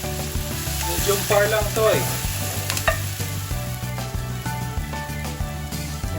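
Onion and garlic sizzle and fry in a hot pan, a steady crackling hiss with stirring scrapes and brief spoken words over the top.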